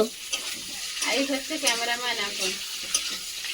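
Onion, tomato and green chilli frying together in a pan for a home-cooked meat curry, a steady close sizzle broken by scraping stirs, with no talk over it.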